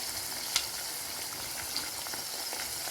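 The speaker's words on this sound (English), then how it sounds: "That's the chicken foot bubbling all up." Chicken livers frying in a pan, a dense, continuous sizzle and crackle with fine bubbling pops throughout and a couple of sharper spits standing out, close and steady with no voices.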